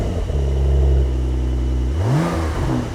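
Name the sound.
Brabus 911 Turbo S engine starting up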